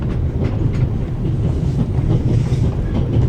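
A train rolls steadily along its rails with a rhythmic clickety-clack and a broad rumble, close and loud throughout, with wind noise buffeting the microphone.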